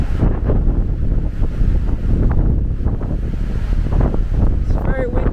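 Strong wind at Pali Lookout on Oahu roars continuously into the microphone, a loud, steady buffeting rush with low gusting rumble throughout.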